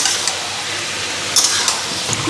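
Chicken sizzles in a hot pan with a steady frying hiss, broken by a few sharp clinks of a spoon stirring against the metal.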